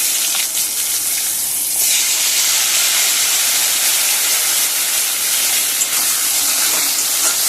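Cut potatoes hit hot oil tempered with black cumin seeds, setting off a loud, continuous sizzle and hiss that holds steady throughout, close up and with no talking.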